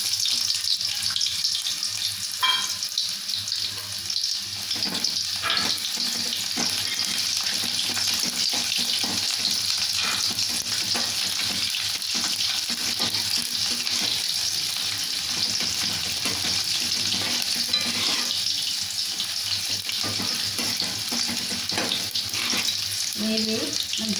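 Sliced onions fry in hot oil in a pan, a steady, close sizzle that hisses continuously for the whole stretch with occasional faint clinks and stirring.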